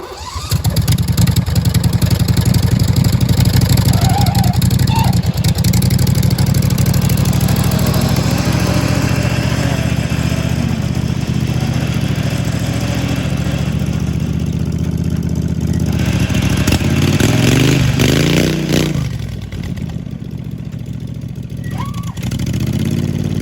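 Truck engine straining and revving loudly as it climbs a steep sand hill with a non-posi rear end, sustained roar that drops off near the end, with voices talking faintly underneath.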